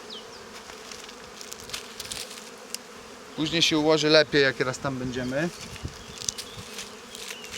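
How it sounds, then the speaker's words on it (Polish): Bees fly all around a hive as a beekeeper works, a faint continuous buzz under the scene while someone speaks in the middle of the stretch. "Te pszczoły tu wszędzie latają."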